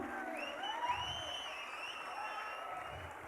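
Crowd at an all-India kabaddi tournament match in Mumbai, the Indian Navy against Tamil Thalaivas, applauding and cheering steadily, a dense continuous wash of clapping with whistles and shouts over it, fairly distant and even throughout.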